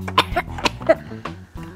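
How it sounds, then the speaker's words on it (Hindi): A few short, sharp coughs in quick succession, close and moderately loud, with low background tones underneath. "खांसी भी हो रही है।"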